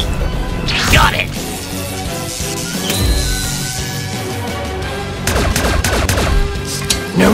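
Rapid gunfire from a Skibidi Toilet multiverse animated battle: a loud burst of shots early on, then a denser, crashing volley of impacts near the end, layered over continuous voices and a busy background score.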